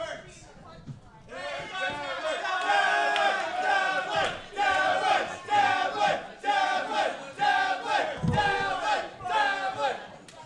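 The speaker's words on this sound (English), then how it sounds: "Crowd cheering on Paul Ridley here as makes his way back to the back" A wrestling crowd at a live rassling show cheers and chants loudly, a dense roar of many voices rising after a quiet start and surging in repeated waves.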